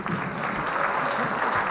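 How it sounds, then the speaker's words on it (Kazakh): A stage audience at a Zhaidarman comedy show applauds a team in one dense, even burst of clapping, steady and loud, with voices faintly mixed in. "Еуразия Жайдарман тобына бір ду қол шапалақтарыңыз."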